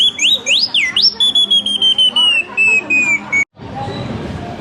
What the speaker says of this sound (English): No, it's his whistle.